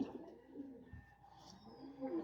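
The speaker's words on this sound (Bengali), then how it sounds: "এই যে কবুতর" Pigeons coo softly in a loft where young birds are kept, low throaty murmurs that come and go close by, with no talk.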